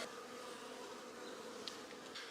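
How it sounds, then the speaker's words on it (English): Honey bees crowd over capped brood frames pulled from an open hive, making a dense, steady drone with no pauses and a few brief louder buzzes as single bees pass close. "I got a lot of bees on this hive, on these frames"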